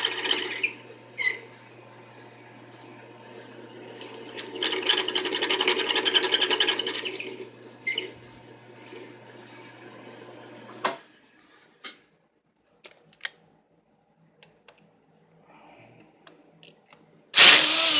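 A power tool fitted with a carbide tip cuts stainless steel with a steady, moderately loud grinding whine that fades out midway, followed by scattered clicks and knocks.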